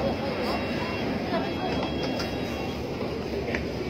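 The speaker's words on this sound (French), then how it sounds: "Voilà, ça c'est le métro de Londres." London Underground train in a station: a steady, broad rumble and roar of the train fills the platform throughout, fairly close, with a voice talking over it.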